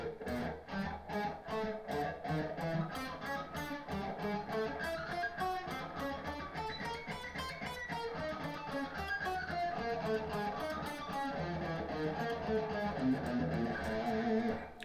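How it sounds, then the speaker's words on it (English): Guitar picking with planting, the pick set on the string before each stroke, produces a fast, even stream of distinct picked notes. The run plays steadily and fairly quietly for about fifteen seconds with no talking. "that's basically where you prepare the pick on the string each time."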